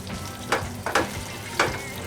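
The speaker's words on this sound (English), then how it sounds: "you're gonna flip your pancake" A kimchi pancake fries in a pan with a steady low sizzle, and three sharp scraping clatters come as it is worked loose and flipped, close and with no voices.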